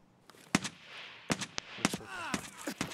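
Gunfire in the video game Escape from Tarkov: a handful of sharp, irregular shots crack out over a low background, some in quick pairs, with no clear speech.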